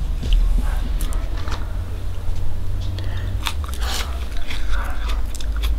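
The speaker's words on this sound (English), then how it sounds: "I'll eat another piece." Someone bites into and chews a piece of Thunder Mountain Longhorn pepper up close, giving a string of crisp, wet crunches over a low steady background hum.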